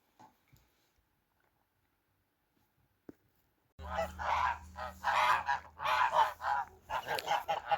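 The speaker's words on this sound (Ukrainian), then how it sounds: "Гусочки понапивалися, понаїдалися, встигли вже побитися." A few seconds of near silence, then a flock of domestic geese in a farmyard breaks into loud, continuous honking and cackling close by.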